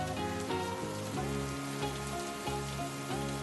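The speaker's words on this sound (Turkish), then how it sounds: "Yağmur damlaları meleğin sarı yağmurluğunun üzerinde hızla birikerek küçük şeffaf baloncuklar oluşturdu." Steady rain pattering close by on a yellow raincoat in an animated children's cartoon, blended with a looping melodic music bed throughout.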